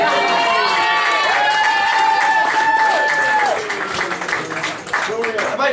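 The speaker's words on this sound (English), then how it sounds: "so a massive round of applause for that." Guests at a rugby club's season awards dinner applaud and cheer loudly and continuously, with a voice rising above the crowd noise before the clapping thins out toward the end.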